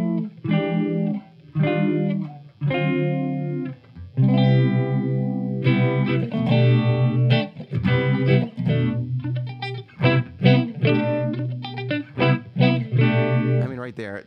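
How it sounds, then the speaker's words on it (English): An electric guitar plays chords and short phrases through a Chase Bliss Wombtone phaser pedal, with swirling, sweeping, watery tone and pauses between strums. "I want just a really great sounding phase pedal"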